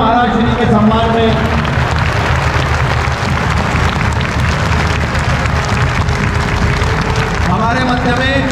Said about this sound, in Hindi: एक बार जोरदार तालियां महाराज श्री के सम्मान में।